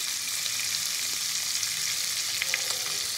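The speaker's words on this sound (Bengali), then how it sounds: "এইভাবে সবজিগুলো দিয়ে ভেজে করলে কিন্তু ফ্রাইড রাইসটা দারুণ টেস্ট হয়" Beans and other vegetables for fried rice frying in a pan, an even, continuous crackling sizzle close by with a few small stirring ticks and no talking.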